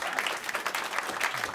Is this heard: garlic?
no